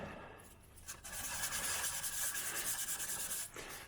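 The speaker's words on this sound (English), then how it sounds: "We're just trying to smooth out the sanding marks from the previous grit of sandpaper." Fine-grit sandpaper rubs by hand across a wet carbon paramotor frame in a continuous close, soft rasping stroke that swells and fades over a few seconds, with no talking.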